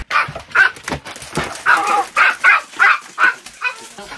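Dogs at a bus-life family's home bark in a rapid series of sharp, loud, close yaps with short gaps between them, and no talk over them.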